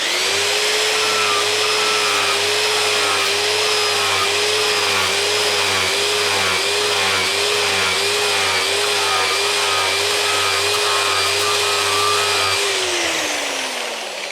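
An angle grinder working the middle of a stainless steel butt weld made with fuse and filler wire, a loud steady whine held close for about thirteen seconds before spinning down at the end.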